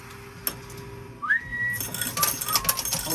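A person whistles a short rising note that slides up and holds steady, close and clear, with faint clinks of coins or dishes around it.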